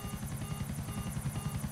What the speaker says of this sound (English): Now I spawned a helicopter.